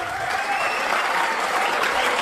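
An audience breaks into applause at a comedy stage show, a dense, loud, even patter of many hands clapping throughout with no pauses.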